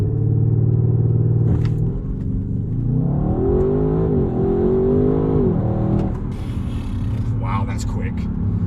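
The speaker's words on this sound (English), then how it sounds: "Let's see what 0 to 62 miles per hour looks like from this 4-litre V8." A 2022 Audi RS6 Avant with a 4-litre V8, all-wheel drive and an 8-speed ZF gearbox accelerates hard from 0 to 62 mph, its engine note rising steadily through the gears, loud and close from inside the car.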